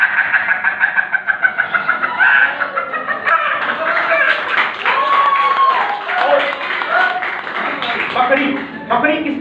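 A performer on stage at a state foundation day event imitates a chicken with his voice, a rapid run of clucks rising into a loud crowing call, close and continuous with crowd noise beneath.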